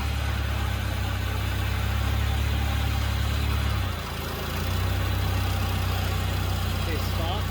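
A van's engine idles steadily and loudly at close range while the vehicle backs up slightly, a continuous low rumble that dips briefly midway.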